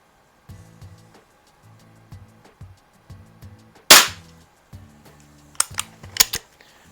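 An air pistol, either a Baikal IZH-46M or a Weihrauch HW70, fires heavier pellets: one loud sharp crack stands out, then several smaller snaps follow among quiet mechanical clicks and handling noises nearby.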